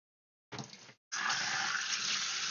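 An aquarium sponge rinsed under a running tap: a short splash of water, a brief pause, then a steady, close, full stream of running water to the end, with no voices.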